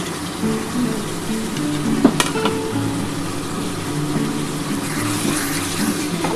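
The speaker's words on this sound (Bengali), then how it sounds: "এবার এই যে পেঁয়াজগুলো কুচিয়ে রেখেছিলাম এগুলো আমি দিয়ে দিলাম এখন" Chopped onions frying in oil in a pan for a spicy Bengali mutton kosha, a steady broadband sizzle running throughout with a brief clatter near the middle and low hum underneath.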